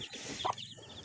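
Black mother hen clucking, one short soft cluck in the middle of a faint farmyard background.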